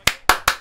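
Four sharp, loud hand claps follow each other in quick, even succession, close by and alone.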